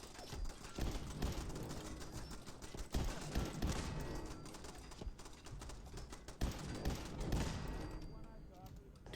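Turret gunfire in Fallout 4 crackles in repeated bursts of sharp shots with mechanical clatter and game effects, loud and busy, with a voice talking at times over the firing.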